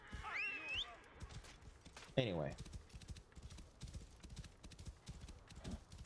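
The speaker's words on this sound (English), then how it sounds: "Get on the horse." Horse hooves clip-clop in Assassin's Creed Origins, a rhythmic series of soft thuds under brief game sounds, a whinny and a few spoken words.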